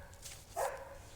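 Neighborhood dogs greeting each other with a pet dog, one short bark rising out of faint background noise, fairly distant and quiet.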